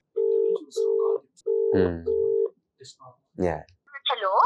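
Phone being dialed to place a normal call: a series of DTMF keypad tones, then short bursts of speech between them as people talk.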